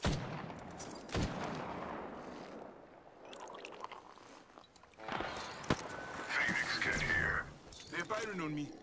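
Gunfire in Apex Legends, with scattered shots and impacts under game voice lines and background action, bursts rising in the second half alongside a character's spoken callouts.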